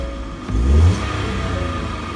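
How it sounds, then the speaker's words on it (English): The three-cylinder engine of a 2018 Ford Ka Plus 1.2 idles and then revs up briefly, rising to a loud peak before settling back into a steady running hum. "Now I'll rev it."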